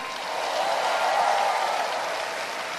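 A large church congregation claps together during an El Shaddai worship gathering, a dense, even wash of applause that holds steady and slightly swells before easing.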